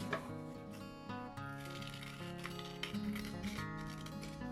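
Scissors cut the cardboard of a toilet paper roll while a craft fox is being made, giving a few soft snips close by under a steady bed of background music, with no talking.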